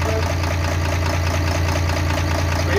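A Tata 4018 truck engine, freshly fitted with new main and big-end bearings and an oil pump, runs at a steady, loud idle with a deep continuous rumble and a slight knocking texture, with no talking.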